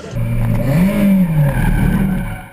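Renault Spider sports car driving on a race track, a loud, close engine drone that rises in pitch, dips and climbs again as it accelerates past.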